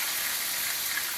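Steaks frying in butter in a pan, a steady close hiss and crackle of sizzling fat running without pause and without any talk.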